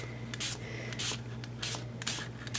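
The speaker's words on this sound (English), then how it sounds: "I'm moving as I'm spraying" Several short hissing bursts of spray from a spritz bottle onto paper, close by and fairly quiet, with a low steady hum underneath.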